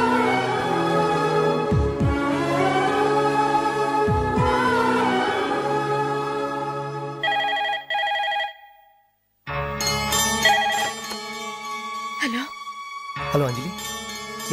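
A melodic mobile phone ringtone plays loud and close with sustained musical tones, stops briefly, then resumes with brighter chiming notes.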